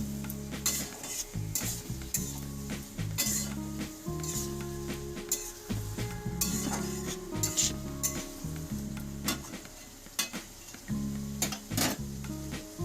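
Fish oil curry (macher tel chorchori) cooked without water is stirred in a pan, with a soft sizzle under irregular clanks and scrapes of the spatula against the metal, close and continuous, with a steady low hum behind it.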